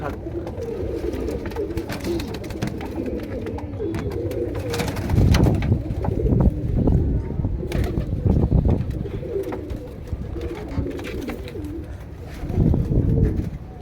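Low, soft cooing of several female pigeons overlapping close by in a cage, with occasional wing flutters and rustling in the background.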